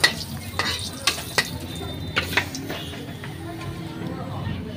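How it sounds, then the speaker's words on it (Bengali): Local chicken frying in mustard oil with bay leaf, dried chilli and cumin, a steady close sizzle broken by sharp stirring scrapes of a spoon against the pan. "মাংসটা কষায় নিলাম"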